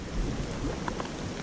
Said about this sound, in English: it's putting the rain down